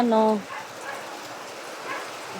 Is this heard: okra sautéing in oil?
no